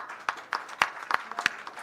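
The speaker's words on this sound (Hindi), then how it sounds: "एक बार तालियां में स्वागत करते हैं" A handful of people in an audience give scattered, uneven claps to welcome a speaker at an English-teaching talk, with about six distinct claps spaced out over two seconds.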